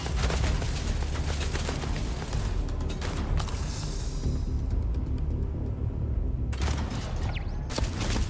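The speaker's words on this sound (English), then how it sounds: "Grenade launcher." Grenade launcher fire and blasts in the space game Starfield, a run of heavy booming shots with rumbling aftermath, a lull midway, then fresh loud bursts near the end.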